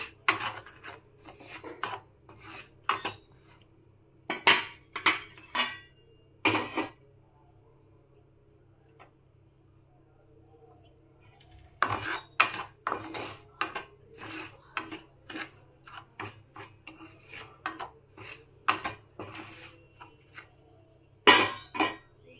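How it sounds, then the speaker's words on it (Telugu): Semolina being roasted in ghee in a pan over medium flame, heard as intermittent scraping and rasping strokes of a spoon stirring the grains, with quiet pauses between bursts and a faint steady hum beneath. "రవ్వని దోరగా వేపుకుందాము."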